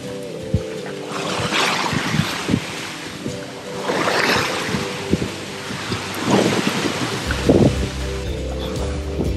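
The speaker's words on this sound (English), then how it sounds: "Big waves." Big waves break and rush around a sailboat crossing the Gulf of Mexico in rough conditions, with repeated surging swooshes every couple of seconds, wind buffeting the microphone and hull creaks and thumps nearby.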